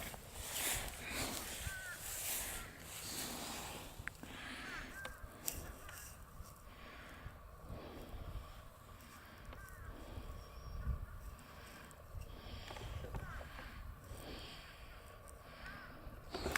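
Crows cawing overhead above Snuggedy Swamp near sundown, repeated harsh caws at varying distances over a constant outdoor wind hiss, with faint rustling and no talk.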